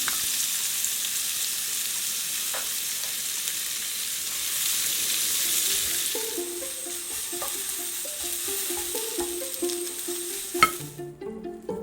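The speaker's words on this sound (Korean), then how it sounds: "중불에 양파를 노릇노릇 볶아주세요." Onions fry over medium heat until golden for a potato soup, giving a steady close sizzle that softens midway as music notes come in under it, with a final clatter near the end.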